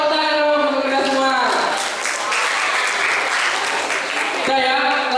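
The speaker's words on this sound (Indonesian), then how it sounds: "Oke, baik tepuk tangan untuk kita semua." Children at a disaster mitigation outreach session clap together in a dense burst of applause that runs for a few seconds between stretches of a speaker's voice at the start and end.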